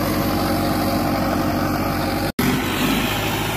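The engine of a Farmtrac 6055 Turbo 4x4 tractor runs with no driver aboard, a loud steady rumble that drops out for a split second.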